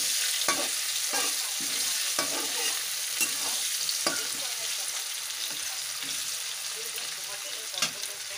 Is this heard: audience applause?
no